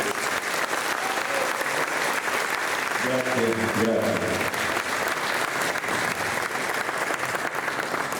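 Audience applause after a cavalry brigade fanfare band's concert performance, a dense, sustained wash of clapping with a short spoken thank-you in the middle.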